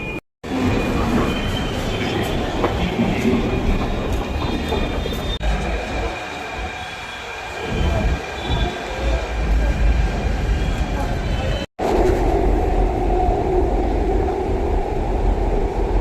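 A Delhi metro train rumbles loudly and steadily at a station, with squealing wheels and rattling carriages, the noise swelling and shifting as it runs.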